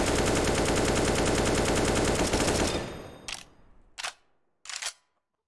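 An AK-47 fires a long full-auto spray in CSGO, a rapid even stream of loud shots for nearly three seconds that tails off, followed by three short separate bursts with silence between.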